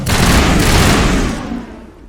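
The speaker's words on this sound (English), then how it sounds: "What are you shooting at" Rapid bursts of gunfire from a firefight in the video game Mass Effect Legendary Edition, a loud dense volley with no pauses that fades away over about two seconds.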